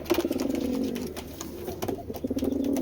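Giribaz pigeons cooing repeatedly in a rhythmic, overlapping chorus, close and moderately loud, with soft wingbeat-like flutters between calls.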